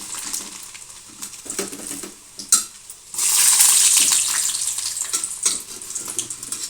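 Mustard seeds, cumin and garlic hit hot oil with crackling and popping at first, then burst into a loud, rushing sizzle that holds strong for a few seconds, close up, with scattered spits. Nobody speaks.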